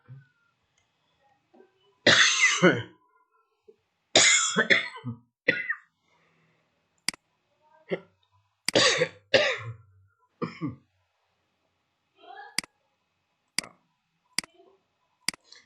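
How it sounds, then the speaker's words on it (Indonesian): Several harsh coughs come in short clusters, with quiet pauses and small clicks in between, close to the microphone. "maaf ini batuk-batuk ya"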